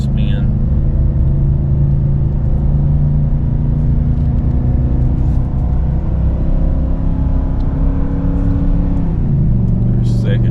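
A Ford 7.3-litre gasoline pickup engine labours up a steep 7% grade while towing a heavy load, a loud, continuous low drone that holds steady and shifts pitch near the end, heard from inside the cab.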